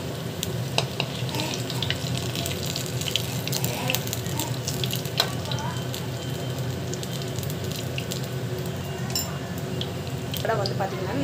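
Vada frying in hot oil, a loud, close, continuous crackling sizzle with scattered pops, and a person talking over it throughout.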